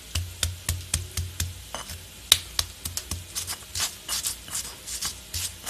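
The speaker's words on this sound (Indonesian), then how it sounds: "sambil kali-kali mengaduk" Spices and ground garlic, shallots and candlenuts are stirred in a pan over a low flame for spicy sweet fried rice, the spatula making steady, evenly spaced scraping strokes over a faint sizzle.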